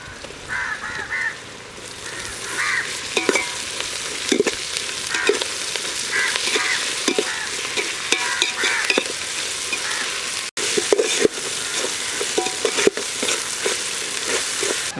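Ginger garlic paste and onions fry in a pan while mutton gravy is cooked outdoors in a village, giving a steady sizzle with spoon clatter and stirring scrapes, and crows cawing faintly in the background.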